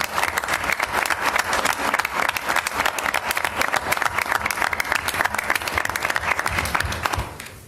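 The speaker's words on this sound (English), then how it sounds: "You all deserve a round of applause." A school board meeting audience gives a long, full round of applause, many hands clapping densely and loudly for several seconds before it tapers off at the end.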